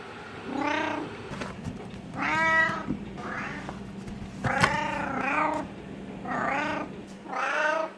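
Cat meowing repeatedly, about seven drawn-out, wavering calls spaced through the stretch, close and clear with a faint low hum between them.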